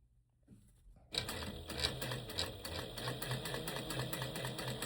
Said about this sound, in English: I'm just going to do some top stitching here